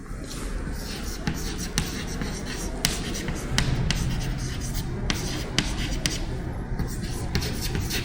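Chalk or marker strokes on a classroom board during a physics lecture, faint irregular taps and scrapes sitting under constant room noise and background murmur.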